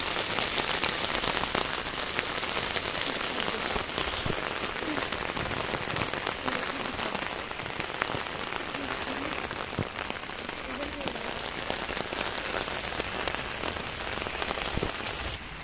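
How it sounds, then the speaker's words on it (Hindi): Heavy rain pours steadily onto a hard surface, a dense, continuous hiss with scattered louder drops, close by and unbroken throughout. "देख सकते हो कितनी तेज बारिश आ रही है"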